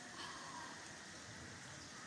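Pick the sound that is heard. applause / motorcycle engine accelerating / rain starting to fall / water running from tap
rain starting to fall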